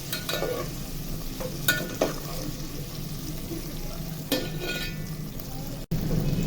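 Half a kilo of cut potatoes frying golden in oil in a pan for aloo gobhi, a steady loud sizzle broken by several spatula scrapes and knocks, with a brief dropout near the end.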